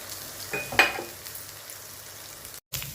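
Onion, green chilies, ginger, curry leaves and ajwain frying in a pan for ajwain rice give a soft, steady sizzle with a brief stirring clatter early on and a short gap near the end.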